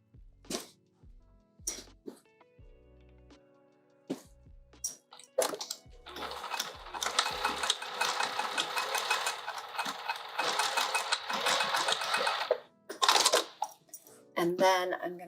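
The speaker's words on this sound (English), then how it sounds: "I'm going to sew down this edge first." A sewing machine stitches down the edge of an open wide pouch made for an Anna Maria box, running as a steady dense whir for about six seconds after a few scattered clicks and handling sounds.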